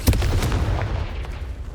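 A Confringo fire spell blasts in Hogwarts Legacy, a sharp booming impact that opens loudly and then rumbles away over roughly a second and a half.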